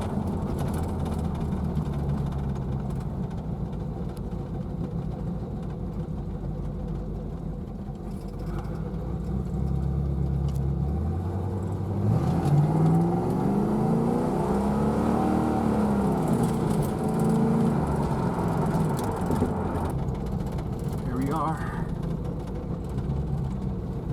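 1982 Chevrolet Corvette C3 driving with a steady low engine drone, then a stretch of revving where the pitch rises and falls as the tires spin, heard from close by without any talk.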